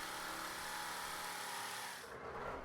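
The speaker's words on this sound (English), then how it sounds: "So I'm just drilling out the pivot hole first, and then I follow up with the jigsaw to cut out the curve." A power drill bores a pivot hole through plywood, a steady close whirring grind with a broad gritty hiss that eases slightly near the end as the bit breaks through.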